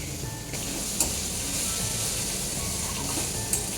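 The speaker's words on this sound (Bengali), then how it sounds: "হালকা করে একবারে ভেজে নেবে" Onions frying in a pan for restaurant-style butter chicken, a steady broadband sizzle with a couple of small clinks, close and continuous with no voices.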